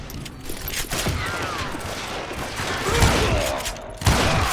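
Rapid bursts of gunfire and echoing shots fill a Western shootout in Call of Juarez: Gunslinger on Nintendo Switch, continuous and loud with sharper blasts near the end over a busy backdrop.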